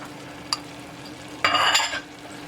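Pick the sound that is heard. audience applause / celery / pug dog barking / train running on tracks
celery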